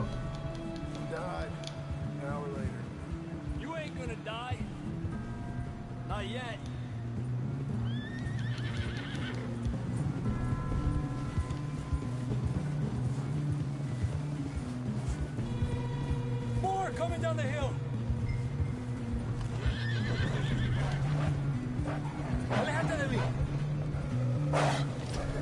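Horse whinnies and clip-clopping hooves in Red Dead Redemption 2 come as repeated neighs over rhythmic hoofbeats and low rumbling game noise, with someone talking throughout.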